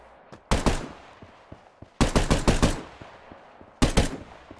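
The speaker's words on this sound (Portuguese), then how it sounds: "Olha o cara dando tiro aqui, galera." Three loud bursts of rapid gunfire in the video game Extopia, shooting at zombies, each a quick string of sharp cracks, separated by short pauses, with faint clicks between.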